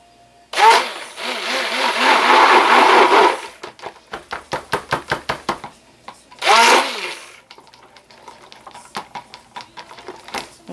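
A small electric hand mixer on low speed whirs steadily for a few seconds, stops, then runs again briefly between clattering, rhythmic knocks.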